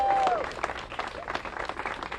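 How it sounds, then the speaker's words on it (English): Audience applause for Senator Durbin at a Senate Democrats press conference on the John R. Lewis Voting Rights Bill, a dense steady patter of clapping hands, briefly overlapped by a voice at the start. "Give Senator Durbin a great big round of applause"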